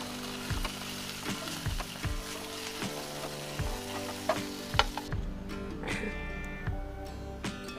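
Pointed gourd (potol) sizzles as it fries in oil in a pan, a steady crackling hiss with scattered pops and occasional utensil knocks, close and moderately loud.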